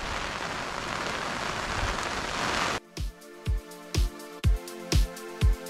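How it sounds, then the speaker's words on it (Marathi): Heavy rain pours down in the hills near Pune, a dense, steady roaring hiss for about three seconds that cuts off abruptly into a series of sharp, evenly spaced knocks. "इतका पाऊस चालू आहे"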